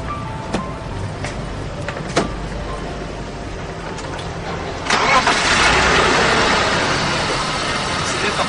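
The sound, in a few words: engine running cleanly, well-maintained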